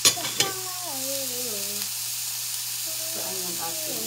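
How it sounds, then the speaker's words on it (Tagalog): Bitter gourd (ampalaya) sizzles and gets stirred in a pan, with a couple of sharp utensil clicks at the start, then a steady soft frying hiss while a voice speaks over it. "So, lutuin lang natin siya mga kaibigan."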